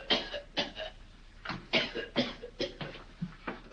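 Harsh, repeated coughing from someone with a bone stuck in the throat, in a scene from an old horror film: about eight rough, close bursts in uneven succession, with no talk.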